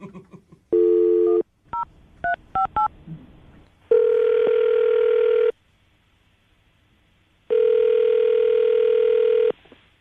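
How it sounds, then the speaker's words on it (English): Touch-tone dialing beeps, then two long electronic ringback tones separated by a pause, clear and steady like an outgoing phone call. "We're about to call Danielle, see if we can get her on the phone"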